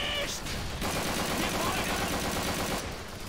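Sustained heavy gunfire in the video game Call of Duty 3, played on an Xbox Series X, forms a dense, continuous barrage of overlapping shots with voices heard beneath the battle noise.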